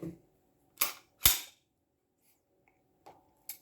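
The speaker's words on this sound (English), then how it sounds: "Drop the magazine." A SAR 9mm pistol's magazine is released and dropped, giving a few sharp metallic clicks and clacks, close and crisp, separated by silence.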